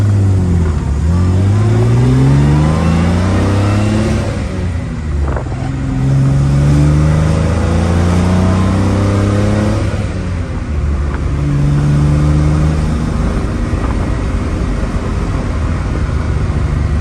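A 1957 Austin Healey 100-6 BN2 engine accelerates hard through the gears on a road in Long Island traffic, loud and close, its revs climbing and dropping at each shift in steady repeated pulls.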